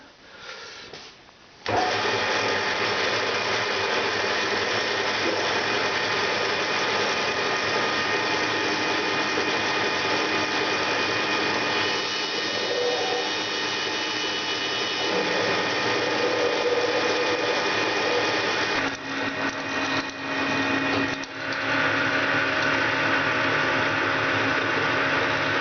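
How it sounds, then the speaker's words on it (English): A metal-cutting machine tool drills and bores metal parts for a compressed air engine, using coolant and throwing chips; a loud, steady mechanical whir runs almost the entire time with faint tonal whines, briefly dipping near the start and around the twenty-second mark. "All set up for drilling and boring. Let's make a big mess on this machine with chips and coolant."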